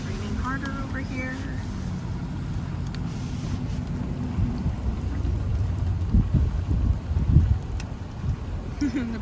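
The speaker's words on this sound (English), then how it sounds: "It's raining harder over here." Heavy rain hisses steadily in St. Mary's, Georgia during a nor'easter, with a low rumble like distant thunder building toward the end. Traffic passes and someone talks over it.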